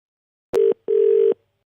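Telephone tone after a call is cut off, two clean electronic beeps, a short one followed by a longer one, loud and isolated against silence.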